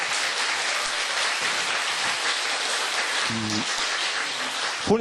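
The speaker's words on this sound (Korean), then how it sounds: "오늘 박수 주세요" Studio audience at a Korean lecture show applauding in a loud, dense, continuous round, with a brief cheer partway through and a voice at the very end.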